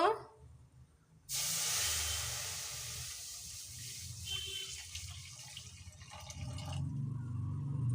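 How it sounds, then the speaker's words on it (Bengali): Milk pours in a steady hissing stream into a karai pan for a mango and milk patishapta pitha, starting abruptly after a quiet moment and fading toward the end with faint kitchen noise. "তো আমি একটা কড়া বসিয়ে দিয়েছি দুধ দিয়ে দেব"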